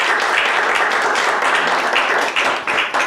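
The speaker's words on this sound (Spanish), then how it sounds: "¿Quién le da un fuerte aplauso a su Señor por eso?" Church congregation giving a loud, sustained round of applause, dense clapping filling the room throughout with no pauses.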